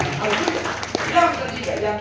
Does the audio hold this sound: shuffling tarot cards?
no